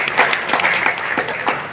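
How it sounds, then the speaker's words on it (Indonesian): An audience in a hotel seminar room breaks into steady, dense applause, loud and close, with a faint crowd murmur under the clapping. "Tepuk tangan dulu buat kita semua ya."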